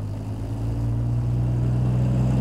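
Triumph TR6 straight-six with fuel injection pulling away from low revs in fourth gear: a steady, deep engine drone with a low hum that builds slightly, heard close and continuous with no talking.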